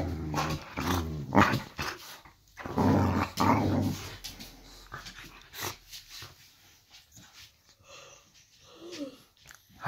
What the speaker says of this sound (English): Savage little dog.